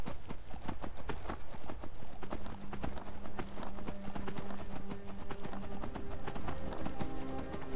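Horse hooves in the video game Skyrim, a rapid steady clip-clop of galloping that runs throughout, close and prominent with a faint tonal game sound entering midway.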